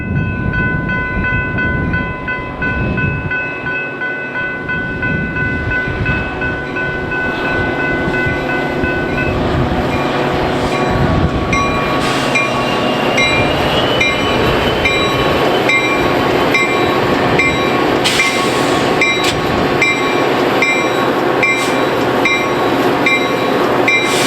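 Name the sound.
trains passing on busy BNSF railway corridor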